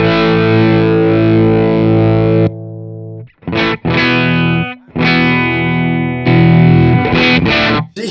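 Electric guitar played through an Orange Micro Dark amp with a pedal, loud and distorted, with sustained chords broken by short pauses and quick choppy strums, no talking.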